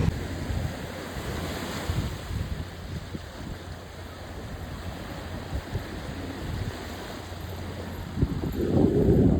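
Ocean surf and gusting wind at Suruchi beach in Vasai, a continuous roar of breaking waves with wind buffeting the microphone, swelling louder toward the end.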